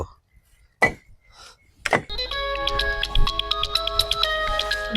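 A phone starts ringing after a couple of sharp knocks or thuds, playing a repeating melodic ringtone close by and fairly loud for the last three seconds.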